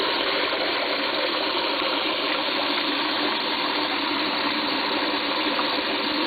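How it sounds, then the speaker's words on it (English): Steady, loud rush of water from a kitchen faucet sprayer while dishes are washed with dish soap, a continuous broadband hiss filling all six seconds without pause. "what I'm going to go ahead and use is the sprayer component of the faucet"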